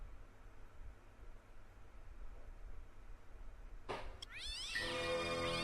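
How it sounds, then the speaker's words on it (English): A cat meows in the point-and-click adventure game Broken Sword on PS1, one loud, sharp, wavering cry breaking out abruptly near the end after a stretch of quiet hiss. "Flipping cats."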